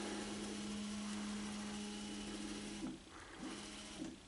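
A UV printer hums steadily with a low mechanical drone, then a few short bumps and clicks sound as its print head sits too close to the sensor over a mouse pad.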